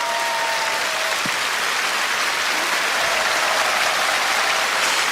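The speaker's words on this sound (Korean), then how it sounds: "송명희 시인님을 여러분 뜨거운 박수로 맞아주세요." Warm applause from a church audience welcoming a poet fills the whole stretch, a dense, steady clapping from many hands with no pause.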